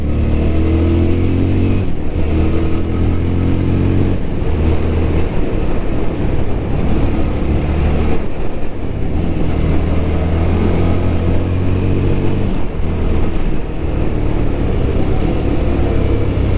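A Yezdi Scrambler 330cc motorcycle engine runs loud and close, its steady throb rising and falling under repeated throttle revs with no talk.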